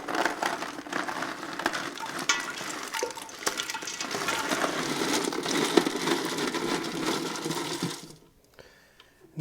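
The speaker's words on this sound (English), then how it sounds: "So let's go ahead and get this ice in here." Ice tumbles into a pot of citrus turkey brine, topping it up to about two gallons: a continuous close clatter and crunch of cubes for around eight seconds, then sudden near-quiet.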